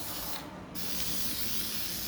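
A continuous close aerosol spray of air filter oil onto a Yamaha YZ250X dirt bike air filter, hissing loudly, briefly interrupted by a short pause before the spray resumes steadily.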